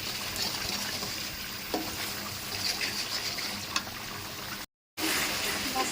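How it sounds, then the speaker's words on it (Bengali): Spice paste cooking down in a generous amount of oil, a steady broadband sizzle with occasional stirring scrapes, close and continuous apart from a brief cut near the end. "একদম ভাজা ভাজা হয়ে গেছে মশলাটা কষায়।"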